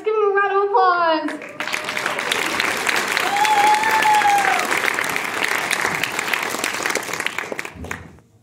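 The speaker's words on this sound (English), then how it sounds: "Let's give them a round of applause." An audience in Hot Springs, SD applauds after a high school play. A voice speaks briefly at first, then loud, dense clapping with a few cheers runs for several seconds before fading out.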